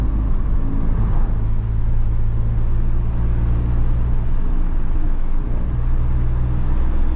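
A 400 BHP Volkswagen Golf R driven hard, its engine a loud, steady low roar with road noise throughout, no pauses or talk.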